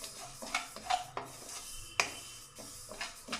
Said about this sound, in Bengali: মুগ ডালটাও ভাজা হয়ে এসছে